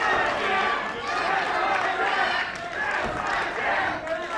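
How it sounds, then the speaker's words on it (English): A wrestling crowd at a pro wrestling show in St. Louis roars and shouts in a loud, steady wash of noise, with voices blending throughout and no quiet gaps. "And Dan getting the love from the crowd here in St. Louis."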